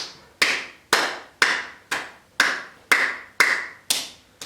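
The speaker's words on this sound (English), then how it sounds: "and then clap" Eight crisp hand claps land at an even, unhurried pace during a yoga routine, each one loud and close with a brief ringing decay before the next.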